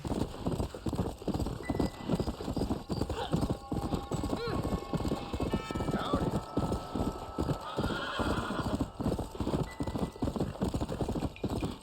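A horse in the Red Dead Redemption video game gallops in a fast, loud, continuous hoof rhythm, snorting and neighing now and then, with a voice speaking over it.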